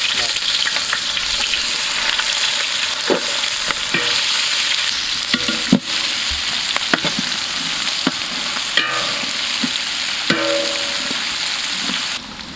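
Sliced onions fry in hot oil with spices for pomfret fish biryani, giving a loud, continuous close sizzle broken by clinks and scrapes of stirring.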